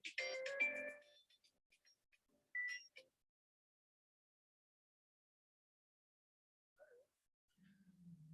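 A phone ringtone sounds in short bursts during an online Zoom meeting, fairly faint, then stops, with long silence and a few faint later sounds.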